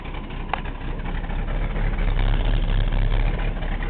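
A cold Chevy truck engine idling roughly and loud, with a steady low rumble and a faint sputter near the start.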